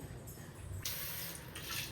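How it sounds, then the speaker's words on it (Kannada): Coconut water poured into a cooking pot for kadubu dumplings, a steady close splashing stream that starts partway through and runs on to the end without talk. "2 ಗ್ಲಾಸ್ ನೀರು ಹಾಕೊತಾ ಇದ್ದೀನಿ"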